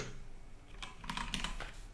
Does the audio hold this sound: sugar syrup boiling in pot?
no